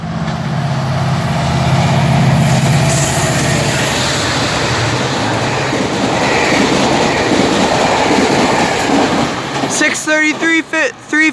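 A GO commuter train, engine and cab car, speeds through Danforth GO station on the Stouffville line at night with a loud, close roar and rumbling rail noise that fades slightly, then people talk at the end.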